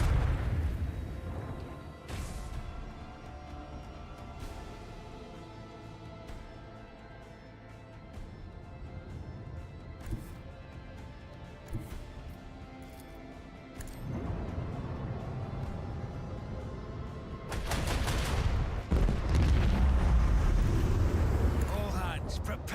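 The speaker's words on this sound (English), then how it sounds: "Lance battery, volley!" A lance battery volley from a starship in Warhammer 40,000: Rogue Trader, heavy booming blasts with a rumbling tail, loudest in a powerful surge toward the end, with a voice speaking over parts of it.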